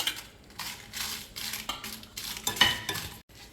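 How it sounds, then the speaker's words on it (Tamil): Dried red chillies frying alone in oil in a pan, with a soft, close sizzle broken by scraping stirs and light clinks of a utensil against metal over a few seconds. "எண்ணெய்க்குள்ளே தனியாக செத்த மிளகாயை போட்டு நல்லா கருக விடாமல் நல்லா பொரிச்செடுப்போம்."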